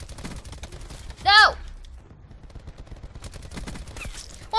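Rapid bursts of VAPR-XKG gunfire crackle in Black Ops 4, loud and close, mixed with a short sharp vocal outburst and surrounding game noise.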